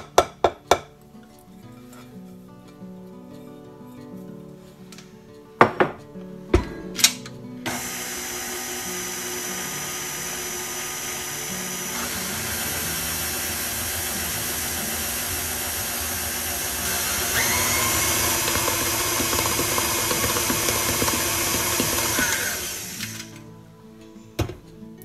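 An electric mixer beats rocky road brownie batter into a creamed mixture in a bowl, a loud continuous high whirring drone that steadies then rises in pitch, preceded by a few sharp clinks of utensils against the bowl.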